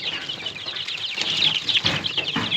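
A brood of Silkie and Japanese bantam chicks, about eight or nine days old, peeps and cheeps continuously in high, overlapping chirps heard up close.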